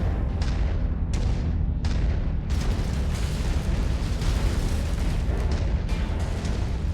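Artillery shells explode in MechWarrior 5: Mercenaries, heavy booms landing one after another over a dense, continuous low rumble, several sharp bursts in the first seconds before the barrage blurs into a roaring wall of detonations.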